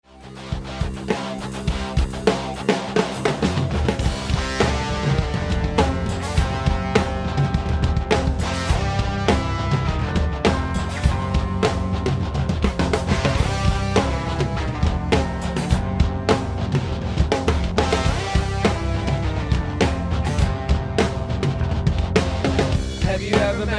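A full drum groove plays steadily and loudly throughout, with busy driving hits consistent with eighth notes on the floor tom under a regular snare backbeat, dense and continuous with no talk.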